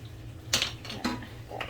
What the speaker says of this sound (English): Get the lid on.